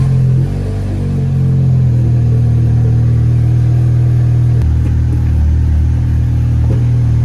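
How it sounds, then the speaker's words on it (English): A car engine idles steadily with a low, constant rumble while the brakes are pumped during a brake fluid flush; its tone shifts slightly partway through, and no one speaks. "we're going to turn the car on and start pumping the brakes"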